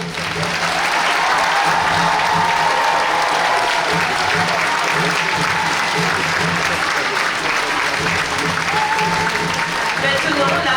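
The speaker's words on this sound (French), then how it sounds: "Applaudissements pour la section des petites," Sustained applause from an audience at a dance performance in a Paris theater, greeting a section of young girls; dense, steady clapping holds loud and even throughout, with a faint crowd murmur beneath.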